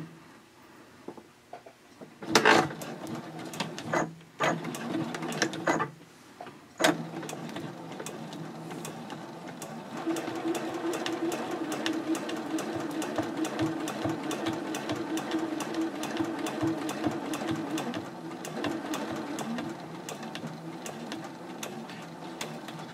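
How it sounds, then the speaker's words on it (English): After a few thumps and clicks, a sewing machine quilts a mini backpack card holder, stitching in the ditch in a long, steady run of rapid even stitches, close and moderately loud. "I'll start the quilting by stitching in the ditch"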